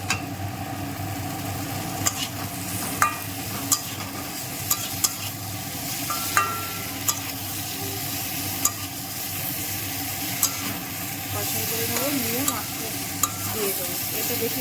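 Potatoes are stir-fried in a tomato masala with a continuous sizzle, punctuated by regular sharp clinks and scrapes of a spatula against the pan.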